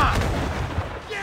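Ship cannons firing in the video game Assassin's Creed 4: Black Flag, a loud booming volley that opens the moment and rumbles on, with a second heavy thud midway amid crew shouting.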